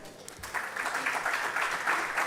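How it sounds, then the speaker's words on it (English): Audience applause at the inauguration of a genomic medicine building in Ghana, a fairly faint, steady patter of clapping that swells slightly and continues for a couple of seconds. "Once again, a round of applause for him,"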